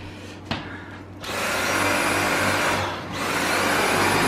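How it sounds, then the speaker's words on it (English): A new Dyson vacuum cleaner starts up with a click and runs at a loud, steady whine. It dips briefly around the middle before returning to full strength, with no talking over it. "Vacuuming."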